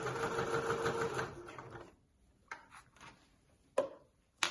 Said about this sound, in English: So just a few back stitches to start myself